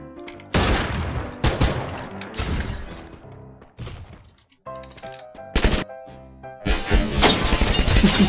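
Gunfire in the Free Fire video game, with loud close bursts of automatic shots and sharp single cracks, broken by brief pauses.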